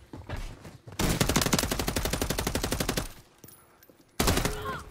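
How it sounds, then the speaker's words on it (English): Rapid automatic gunfire from akimbo pistols in a video game, a dense burst of sharp shots lasting about two seconds, followed by a second loud burst after a short pause. "Akimbo pistols."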